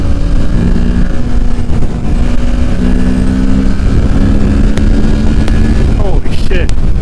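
A 2023 Kawasaki Ninja 650 motorcycle revs hard and accelerates in fourth gear, a steady loud engine drone with rising pitch steps under heavy wind rush and someone talking over it.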